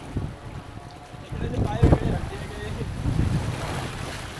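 Surf washing in on an Andaman Islands beach with a low, rolling rumble, swelling around the middle and again near the end, mixed with wind buffeting and people talking nearby.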